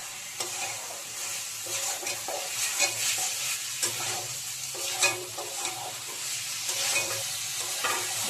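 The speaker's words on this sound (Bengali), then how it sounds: "এই চালটার সাথে ভালো করে মশলাটা মিশিয়ে নেব।" Basmati rice being stirred with spices in hot oil for egg pulao, a close sizzle broken by rhythmic scraping strokes of a spatula against the pan, no voices.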